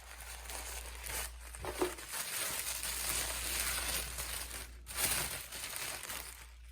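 Crinkly wrapping and packaging are crumpled and torn open as a red glittery Christmas gift pouch of beauty products is unpacked, with steady rustling and a couple of louder crunches up close.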